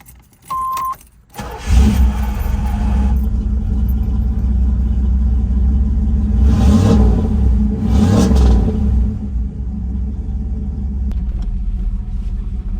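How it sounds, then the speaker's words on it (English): Keys jingle near a Chevrolet Camaro, then its engine cranks and fires into a loud, deep rumble. The engine holds a steady drive around a neighborhood, with two brief surges of revving. "Take a quick ride in the Camaro around the neighborhood"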